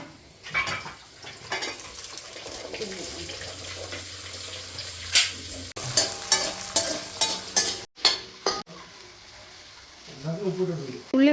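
Sliced onions and beef sauté in a pan as turmeric is added, giving an uneven sizzle broken by stirring clatter, tap water and utensil knocks, with people talking throughout.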